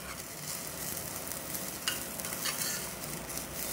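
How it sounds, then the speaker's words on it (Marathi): Rice sautéed in hot oil for a spiced masala bhaat, stirred steadily in the pan, giving a continuous soft sizzle with faint scraping strokes and no voices. "या तेलावर परतून घेऊ आपण तांदूळ"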